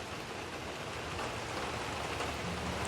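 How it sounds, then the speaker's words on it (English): Steady rain falls outside on a porch, an even, continuous hiss of drops that stays at a constant moderate level throughout, with no voices. "Can you hear that? It started to rain."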